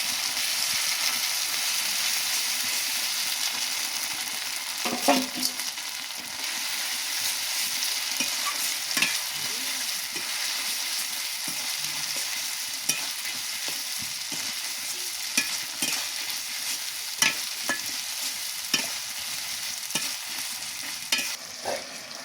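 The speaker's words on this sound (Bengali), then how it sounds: "মশলাটা ভালোভাবে কষাতে হবে" Ginger-chili spice paste for chicken and potato curry fries in a pan with a soft continuous sizzle, broken by scattered scraping stir strokes and light clicks over a long, steady stretch.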